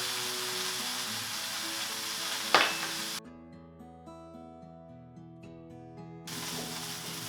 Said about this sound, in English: Now I'm going to cook this bottom part.